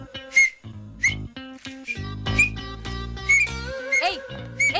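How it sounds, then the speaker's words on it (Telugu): A man whistles in a comedy scene, a series of short bright whistled notes and chirps in quick irregular bursts, close and loud, broken by brief gaps and a few spoken sounds. "విజిల్ వేయడం నేర్పిస్తున్నా"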